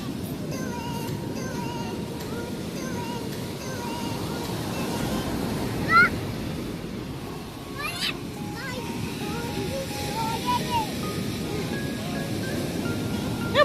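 Sea surf at Puri beach washes in with a steady broadband wash, with wind and distant voices of people talking on the shore. The background stays continuous, with brief louder swells.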